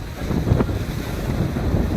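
Sea waves wash and splash against the shore at Kanyakumari, where three seas meet, heard as a steady close surf roar with wind buffeting the microphone and one brief louder splash.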